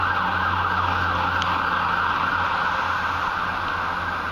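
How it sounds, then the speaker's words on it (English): A fire engine siren wails steadily in the distance, a sustained tone over low road rumble with no talking. "This is like the third or fourth fire engine coming."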